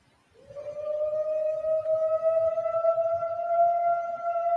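A man imitates a long howl as a call for the Mogollon Monster, a single sustained tonal wail that starts low, rises slightly and holds steady for several seconds outdoors, loud and unbroken.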